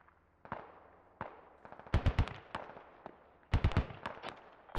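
Striker armored vehicle firing in the military video game Squad, with bursts of heavy gunfire cracking in clusters at around two and three-and-a-half seconds over quieter scattered shots and background battle noise.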